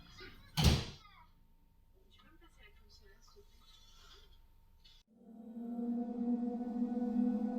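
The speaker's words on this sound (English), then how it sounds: "And then door shuts." A back door bangs shut nearby with one sharp thud, followed by faint rustling and then a steady low hum.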